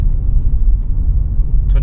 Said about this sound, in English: So the traffic is beginning to pick up.